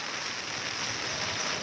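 Light rain falling steadily, a soft continuous hiss of drops with no distinct patter or other sounds standing out.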